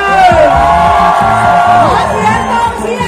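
A Pheu Thai election rally crowd in Chachoengsao cheers and whoops loudly and steadily for its candidates, with shouted voices and a loud amplified speaker's voice rising over the crowd throughout.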